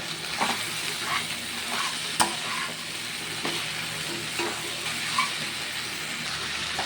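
Ingredients being stirred and mixed in a hot pan for a hilsa fish dish, a steady sizzle with intermittent scraping and clinks of a spoon, no speech.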